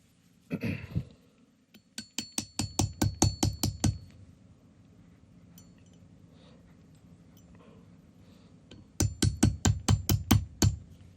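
Sharp metallic hammer taps in quick rhythmic bursts on a pin in a Jericho 941 pistol, a steady run of strikes, a quiet pause, then another rapid series close by.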